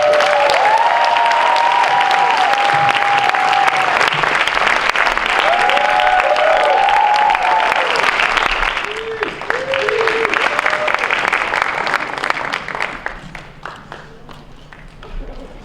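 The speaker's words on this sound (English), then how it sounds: "Big applause for her." Sustained applause from an awards ceremony crowd fills the room, loud and steady for several seconds before tapering off, with faint voices underneath.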